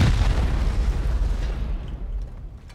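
A rocket explodes against a heavily barricaded clan compound during a solo raid in a survival game, a loud deep boom that rumbles and slowly fades over a couple of seconds.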